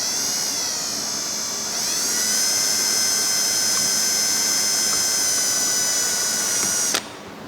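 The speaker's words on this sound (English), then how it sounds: "And then I'm just going to use that drill bit again to connect the dots." Drill bit boring a row of holes and then cutting between them to open a slot while fitting a brake cooling kit to a Subaru VB WRX; a loud, steady high-pitched whine runs almost unbroken before cutting off abruptly.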